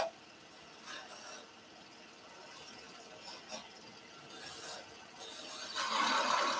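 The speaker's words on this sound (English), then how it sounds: "Skew chisel, let's make something as a V in here." Skew chisel cutting a V groove into spinning wood on a lathe, giving a soft rasping, rubbing hiss that swells in short passes and grows louder toward the end.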